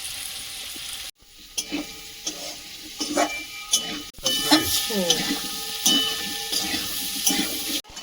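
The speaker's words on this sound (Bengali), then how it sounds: "সবজিটা ভালোভাবে ভেজে নিয়েছি তারপর কড়াইশুটিটা দিয়েছি" Vegetables and peas fry in a wok with a steady close sizzle and intermittent stirring scrapes, after a brief pause in the sound.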